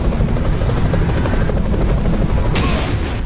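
Helicopter in the video game Messiah: a loud, steady rotor drone with a continuous engine whine that rises slightly in pitch, sustained for a few seconds with no talk over it.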